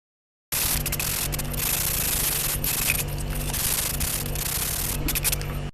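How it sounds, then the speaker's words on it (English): Sandpaper rubs steadily against clay in continuous back-and-forth strokes, close and fairly loud, with no talking. "go ahead and lightly sand off any imperfections that you might find on your clay"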